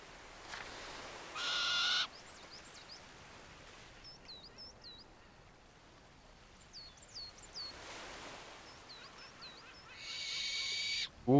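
Barn owl in the nature-walk video game Alba gives faint, repeated short wavering calls in small groups, spaced across quiet outdoor ambience, with occasional brief bright bursts of other game sound.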